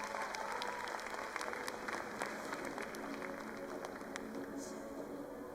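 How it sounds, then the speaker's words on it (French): Audience at a cosplay show parade claps steadily, a dense patter of many hands with individual claps popping out, heard from some distance without talk. "applaudissez-les bien fort pour pas que ce soit vous les prochaines cibles"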